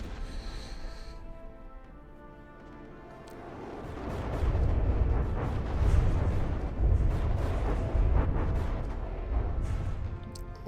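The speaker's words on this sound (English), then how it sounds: "A lot of small missiles for a good measure." Missiles fire in the naval combat game From the Depths as a rapid barrage of launches and booming impacts. Quieter crackles build into dense, rumbling volleys of overlapping blasts.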